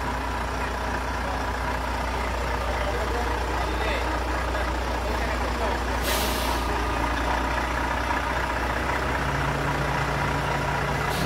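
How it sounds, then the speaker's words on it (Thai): A trailer truck towing a Cat 320 Next Gen excavator rumbles steadily at close range, its heavy engine drone continuous, with a sharp hiss of air brakes bursting out partway through. "ได้ดูรถเทเลอร์ครับ"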